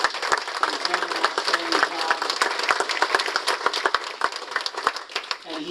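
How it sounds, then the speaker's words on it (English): Audience gives a round of applause for a police chief at an awards ceremony, dense, sustained clapping from a large crowd, loud and close, with crisp individual claps running steadily for several seconds. "you have to give the man a round of applause for his leadership of this police department"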